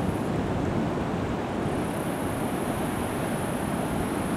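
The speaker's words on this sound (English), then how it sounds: "river's dumping out to the Pacific Ocean" Pacific Ocean surf breaks where a river empties into the sea at Playa Hermosa, Costa Rica, a steady broad wash of waves with wind buffeting the microphone, continuous and without talk.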